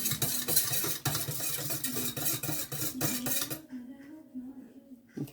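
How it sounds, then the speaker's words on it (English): Yeast whisked into warm water in a bowl for rustic bread: rapid rhythmic clinks and scraping of a whisk against the bowl for a few seconds, then faint quieter taps, close up. "I'm gonna add the yeast. I'm gonna let it set for about 10 minutes. Just gonna whisk it here."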